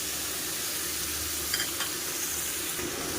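Spice paste frying in a pan, a steady close hiss of sizzling with a few faint stirring scrapes partway through.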